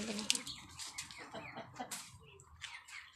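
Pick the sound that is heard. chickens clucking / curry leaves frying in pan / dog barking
chickens clucking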